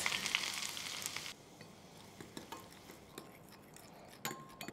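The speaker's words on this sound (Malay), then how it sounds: "Masukkan minyak panas." Loud, steady sizzling as hot oil is poured onto a spicy noodle sauce with spring onion, sesame and red chili, dropping abruptly to a quieter crackle with scattered clinks and light spattering.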